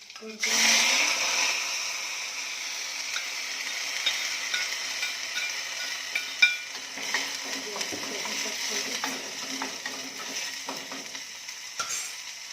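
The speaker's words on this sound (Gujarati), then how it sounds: "પહેલાં થોડુંક ચોરીનું શાક વઘારીએ કામલ માટે" Cowpea (chori) curry being tempered in hot oil, with a loud burst of sizzling that settles into a steady crackling hiss punctuated by stirring scrapes, close up, with no talking.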